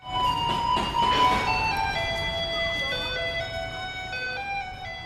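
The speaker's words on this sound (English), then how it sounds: "this is what a garbage truck in Taiwan sounds like" A chiming electronic melody plays from a Taiwanese garbage truck's loudspeaker, a bright tinkling tune repeating steadily at moderate distance, with faint background voices.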